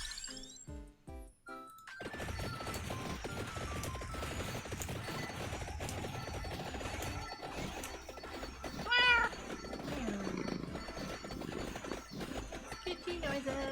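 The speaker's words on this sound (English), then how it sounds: "Kitty noises." A cat meows several times during a cosy, rainy-day livestream, heard over a busy mix of clip-clops, thumps and other background sounds with occasional voices.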